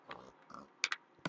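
Short pig oinks and grunts from Minecraft, a few quick game-style snorts in a 1.3-second burst, the two brightest close together near the middle and a final sharp one at the end, with no talking over them.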